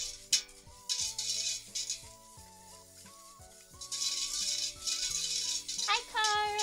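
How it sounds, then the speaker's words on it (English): A whisk stirring in a bowl, a continuous metallic rattle and scraping, heard under tonal background music and a voice. "I'm just gonna stir this for you guys."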